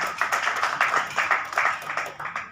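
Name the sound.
applause at a Lions Club board meeting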